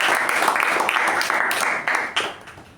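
An audience at a Toastmasters club meeting applauds the speakers with a dense, steady round of clapping that gradually thins and fades toward the end.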